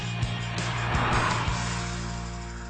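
A 2014 Peugeot RCZ hatchback drives under steady, close engine drone with broadband road and tire noise, a few brief thumps and a slight swell in the middle before it evens out, no voices.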